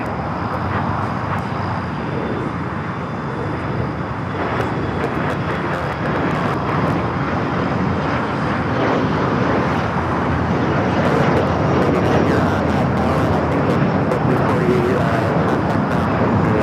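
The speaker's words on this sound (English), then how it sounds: "This is JSX 1094 taking off to Cabo on the E145." A JSX Embraer E145 jet taking off from LAX bound for Cabo, a continuous broadband engine rumble at moderate distance that stays fairly even throughout, with people talking over it.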